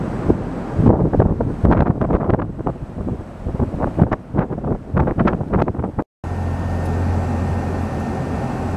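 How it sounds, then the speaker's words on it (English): Two Sturtevant Size 8 Design 5 propeller fans run together inside a building, first with gusty, buffeting rumbles of moving air, then settling into a steady, even whoosh with a low droning hum. "There's a lot of air movement in this building with those two going."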